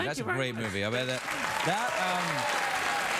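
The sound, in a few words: studio audience applause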